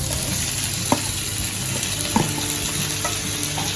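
Potato and tomato pieces sizzle steadily in a frying pan while a spoon stirs them, with a few sharp scraping clicks against the pan, close and moderately loud.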